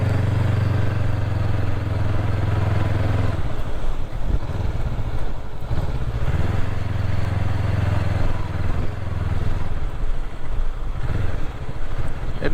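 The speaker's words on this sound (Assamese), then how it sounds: "এতিয়া ইয়াতে অলপ বাইক চলাই ঘূৰিম" An NX500 motorcycle rides along a rough riverside track in Assam, its engine a steady low drone with shifting revs and a few clattering bumps, heard up close throughout without talk.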